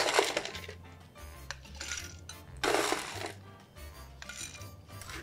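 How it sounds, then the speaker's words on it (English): Ice cubes are dropped into a cocktail mixing glass in a few bursts, giving close, bright clinks and rattles with quiet pauses between them and no talk. "After that, we're gonna ice down our mixing glass."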